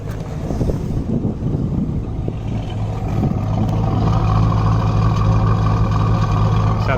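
A Chevrolet Corvette C5 Z06 idles with aftermarket headers and no other exhaust or engine modifications, giving a deep, steady low rumble that grows slightly louder partway through, recorded close up outdoors with some wind buffeting.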